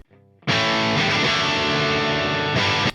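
A heavily distorted electric guitar through a Marshall amp and closed-back Vintage 30 cabinet, miked with a 57, opens with a quieter picked figure, then a loud, thick sustained chord that rings for a couple of seconds before cutting off.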